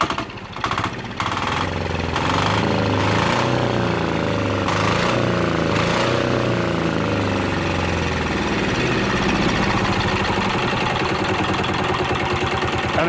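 A 10 HP diesel go kart engine idles, a throbbing mid-pitched chug that settles into a steady, even putter after a brief rise at the start, close and loud with no talking.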